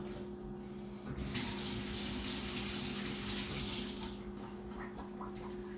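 Raw chicken thighs rinsed under a running kitchen tap, water streaming steadily and splashing harder midway, with a constant low hum underneath and no talking.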